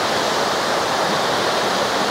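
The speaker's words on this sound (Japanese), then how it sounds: "もうこれ無名の滝なんですけど" Unnamed waterfall in Yokoya Gorge, Nagano, heard as a loud, dense, unbroken rush of falling water close by, with no voices.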